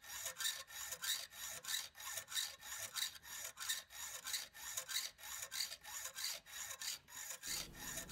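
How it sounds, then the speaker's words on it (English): Hacksaw cutting off the head of a bolt held in a vise to make a threaded stud, a steady rhythmic rasp of back-and-forth strokes, close and continuous with no talk. "cutting off the head of a bolt to make a threaded stud"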